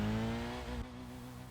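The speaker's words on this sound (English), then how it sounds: "You can hear him revving the nuts out of it." A car engine in the video game Kaido Racer 2 drones at high revs as an AI driver fails to shift, holding a steady buzzing pitch with a slight drop partway through.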